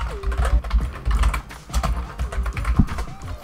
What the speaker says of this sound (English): You have to type out everything.